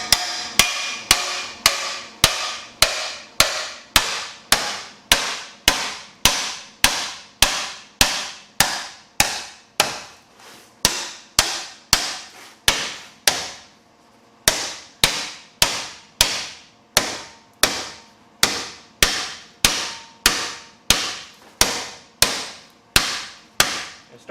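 A hammer taps a metal rust repair panel on a Jeep TJ Wrangler, dozens of sharp ringing metallic blows in a steady even rhythm, close and loud, with brief pauses between runs.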